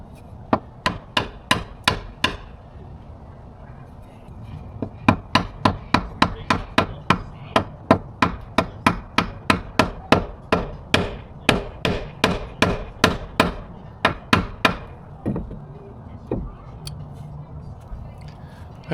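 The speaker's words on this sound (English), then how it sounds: "I carefully drive in the new pivot pin and secure it with the cotter pin." A new pivot pin is driven into a boat steering shaft for a Volvo Penta stern drive with a long run of sharp, close metallic hammer strikes, steady and evenly spaced, with a brief pause partway through.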